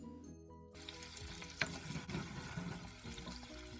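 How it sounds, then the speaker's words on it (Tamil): Onion and garlic sauté in a pan for kara kuzhambu, a quiet start giving way to a continuous crackling sizzle with a sharp spoon knock and soft stirring scrapes. "வெங்காயம் பூண்டு போட்டுக்கிறேன், நல்லா வதக்கிக்கலாம்."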